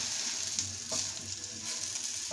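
A potato chila pancake sizzles steadily in a hot pan, a close, continuous frying hiss with faint crackles and a couple of soft scraping stirs, and no speech.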